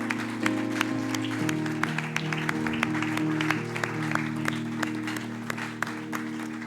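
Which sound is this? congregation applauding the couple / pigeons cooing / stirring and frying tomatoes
congregation applauding the couple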